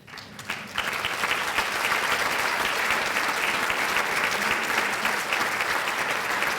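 Audience at a chamber of commerce education event applauding as board members and staff stand, a sustained, dense round of clapping that starts within the first second and stays steady, filling the room.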